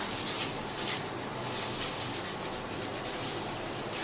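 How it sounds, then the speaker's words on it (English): A washroom surface is scrubbed clean with rapid, continuous rubbing strokes, a steady rasping swish repeating close by without pause. "And then start scrubbing."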